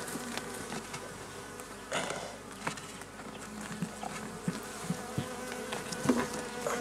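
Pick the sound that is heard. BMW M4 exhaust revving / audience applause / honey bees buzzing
honey bees buzzing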